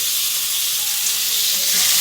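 Cut potatoes frying openly in oil with dry spices for an okra-and-potato curry, giving a steady, loud, close sizzle throughout with no talking.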